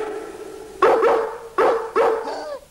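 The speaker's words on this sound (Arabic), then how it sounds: "ده صوت الكلب داني في هامستيد." A dog barks three times, close and loud, with short gaps between the sharp barks.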